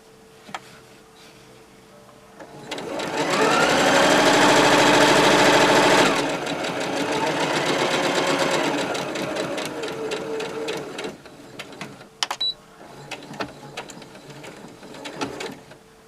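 A sewing machine runs steadily for several seconds while stitching on a waistband, loud and close, then slows into intermittent short bursts and clicks.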